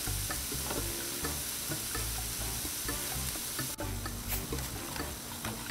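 Steak sizzles loudly and continuously on a Blackstone 22-inch griddle, with scattered spatula taps and scrapes as the meat is flipped, and a brief clunk partway through.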